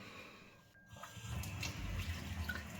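Ordinary tap water runs in a steady, soft rushing stream, used to rinse the control board of a BFT Deimos A600 gate motor damaged by mice and flooding; the flow builds slightly partway through.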